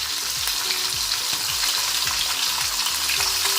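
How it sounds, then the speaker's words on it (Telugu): Fish pieces for a tamarind fish curry fry steadily in hot oil, a dense continuous sizzle filling the pan with soft clinks of a utensil, close and even throughout. "మరోవైపు కూడా తిప్పి ఫ్రై చేసుకోవాలండి"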